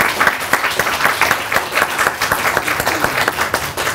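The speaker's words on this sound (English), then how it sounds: "Let's have another round of applause for our presenters." An audience in a conference session room gives its presenters a close, loud round of clapping. Distinct individual claps beat in a quick, uneven rhythm throughout.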